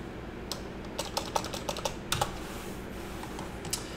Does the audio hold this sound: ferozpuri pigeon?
no